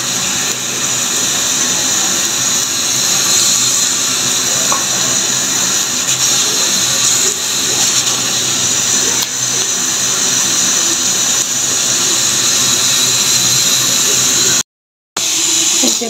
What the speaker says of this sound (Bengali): আমি 2 ধাপে ভাজি করবো,